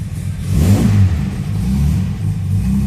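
A Jaguar E-type 2+2 engine breathing through a custom-built exhaust revs up close and loud, a deep, steady roar swelling early and then holding, with no voices.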